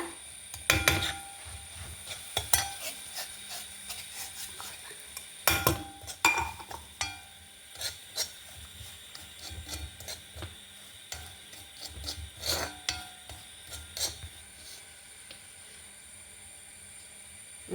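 Semolina (rava) is stirred and roasted in a pan with raisins, giving faint scraping and rubbing with scattered clicks of the spoon against the pan and a soft background hiss.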